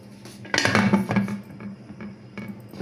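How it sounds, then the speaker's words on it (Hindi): A metal weight set onto a pressure cooker of chickpeas with water, giving a brief burst of metallic clinks and pot clatter up close, then quieter scattered rattles with no talk. "ये देखिए जी, चने मेरे कुकर वेट लग गया।"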